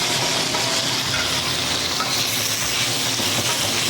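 Food for Thai basil fried rice frying in a hot pan, a loud, dense, continuous sizzle with steady crackling that holds even throughout, heard up close with no voices.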